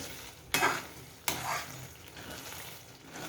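Green chillies cook in hot oil in a pan for a Marathi-style dish made with curd or buttermilk. The oil sizzles steadily, and two sharp stirring bursts stand out near the start. No one speaks.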